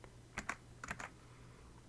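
Computer keyboard arrow-key presses during frame-precise input in a Pogo game, heard as a few quick clustered clicks, a pair, a triple, then one more near the end, close and fairly quiet with no talking.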